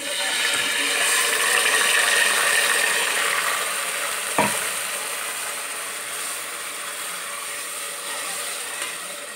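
Yogurt-marinated mutton for biryani fries with browned onions in a pan, giving a continuous bright hissing sizzle with one sharp knock midway, gradually easing in strength.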